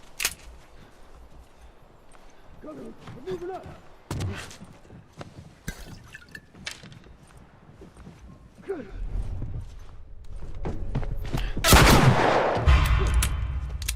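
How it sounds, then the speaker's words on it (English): Scattered sharp gunshots and bursts of fire in The Last of Us, with brief voices in between and a loud, heavy volley toward the end. "And there's Tommy just strolling through the gunfire."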